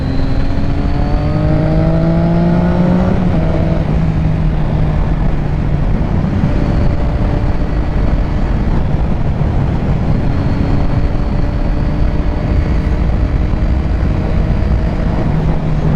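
A sport motorcycle, a 2006 Triumph Daytona 675 or 2007 Yamaha YZF R6, drops its revs and blips the throttle on a downshift to third while cornering, a loud, close, steady engine drone with a sharp rev change early on.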